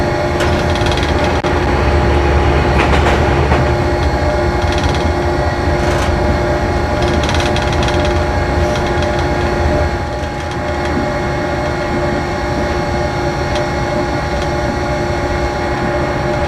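A train running on rails through hilly country with bridges and tunnels, a loud continuous rumble with a steady mechanical hum and occasional rattling clicks throughout, no talk.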